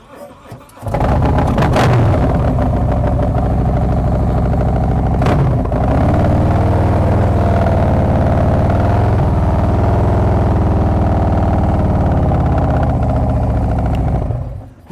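A motorcycle on a practice lot starts up and runs loud and close, idling with a steady rumble and a couple of quick revs before cutting off at the end.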